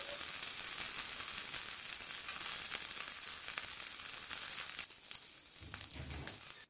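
Beaten eggs hit a hot surface over a burger and sizzle, a steady dense hiss that holds for several seconds before cutting off abruptly at the end, close and without speech.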